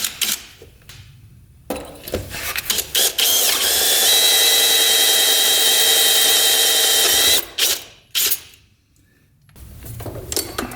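A close power drill whines steadily for a few seconds while drilling out a snapped bolt on a 2-stroke dirt bike, bracketed by clanks, rattles and short tool bursts.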